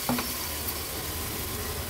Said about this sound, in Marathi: फोडणी थोडीशी परतून घ्यायची आहे